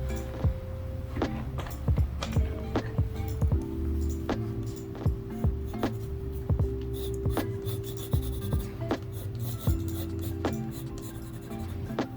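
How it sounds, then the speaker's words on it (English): Colored pencils scratch and rub across a gouache painting, a soft, steady drawing sound with light taps from strokes, close and alone over a faint background hum. "I'm going to finish my painting with some colored pencils"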